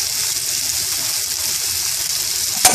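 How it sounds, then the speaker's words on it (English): Chopped onion stirred into hot vegetable oil with garlic, with a pinch of salt, giving a steady, even sizzle close by with a brief clatter near the end. "Now I stir some chopped onion"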